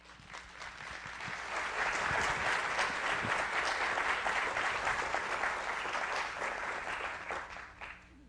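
A welcoming round of applause from an audience at a science talk, swelling quickly into sustained, dense clapping that holds steady before tapering off near the end.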